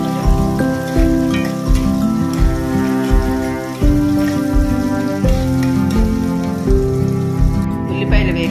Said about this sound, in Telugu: చూడండి వేగుతున్నాయి. కొంచెం బ్రౌనిష్ వచ్చే వరకు వేపండి